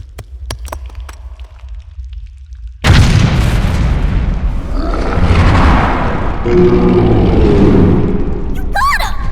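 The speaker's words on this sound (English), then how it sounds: "That explosion compromised the mine." A Fallout 76 audio drama explosion compromising a mine erupts suddenly after a quiet stretch, a loud deep boom that rolls into a long rumbling, crackling tail with debris noise.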